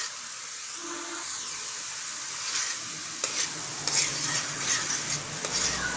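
Tamarind sauce thickening in a pan as it is stirred, a steady close sizzle and bubbling hiss with scraping stirring strokes growing busier toward the end.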